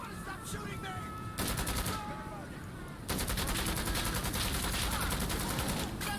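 Gunfire in the video game Insurgency: Sandstorm: a short burst of rapid automatic shots, a pause, then a long sustained stream of fast rattling fire, loud and close, with a brief voice in the background.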